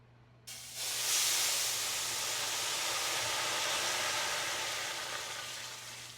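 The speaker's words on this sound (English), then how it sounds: "And we're going to pour in our steam." Water is poured into a hot pan in an oven to steam sourdough baguettes: a sudden splash erupts into a loud, steady steam hiss and sizzle that slowly fades over several seconds.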